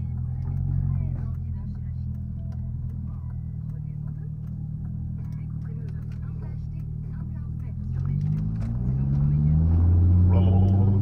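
A Chevrolet Corvette C6 6.0 V8 engine rumbles deeply at idle, then swells into a louder throaty roar near the end, with someone talking over it.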